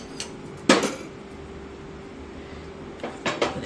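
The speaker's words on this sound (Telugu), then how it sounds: "పెనం పెట్టుకొని కొద్దిగా నూనె వేసుకొని" A metal dosa pan (tawa) set down on a stove, a sharp clank near the start, then a few lighter clatters of cookware near the end, close and otherwise quiet.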